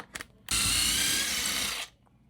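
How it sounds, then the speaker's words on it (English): A power drill with a 13/64 inch bit pre-drills through 3/4 inch plywood and drywall during a slim server rack install, a single loud, steady whine lasting about a second and a half, close up, preceded by faint knocks. "you have to pre-drill this exactly right."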